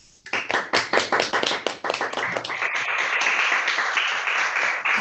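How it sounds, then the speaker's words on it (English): An audience at a national school tourism debate claps, starting with distinct hand claps that quickly merge into steady, fairly loud applause sustained for several seconds, with no talking. "Let's have a round of applause,"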